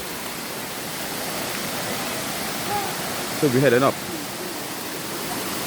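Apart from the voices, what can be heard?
waterfall at Turure water steps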